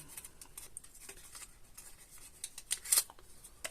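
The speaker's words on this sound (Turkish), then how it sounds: "Şöyle jileti açıyorum." A shaving razor being opened to take an Astra blade gives a few soft, close clicks and light metallic rustles, with one sharper snap near the end.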